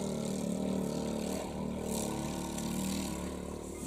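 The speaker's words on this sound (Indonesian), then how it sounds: "Wah, itu ada motor gunung yang seperti di Garut." An off-road motorcycle engine passes by on a mountain farm track near Dieng, Wonosobo, a steady mid-pitched drone that stays loud throughout with slight swells in revs.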